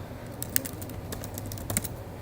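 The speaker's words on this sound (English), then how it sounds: "Make sure that you type in the name exactly how it's supposed to appear." Soft, irregular taps of typing on a computer keyboard while entering a name, with scattered clicks and a couple of slightly harder keystrokes over a low steady background hum.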